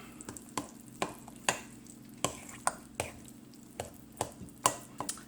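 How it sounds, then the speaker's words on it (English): A spoon stirs gluten-free cornbread batter in a bowl, giving a steady run of soft, close scrapes and taps roughly every half second, with no talking. "So just mix it until all of it"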